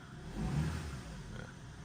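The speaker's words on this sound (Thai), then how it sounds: "เร่งเครื่องหน่อย" A Chevrolet Optra car engine revs up briefly nearby, swelling then settling back into a steady rumble.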